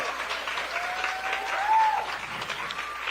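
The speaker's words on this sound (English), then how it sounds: "One more round of applause for Ailani, Capo Winge representative." Crowd applause for a performer at an Indigenous artist showcase, a steady wash of clapping throughout with a brief whistle rising through the middle, fairly even in loudness.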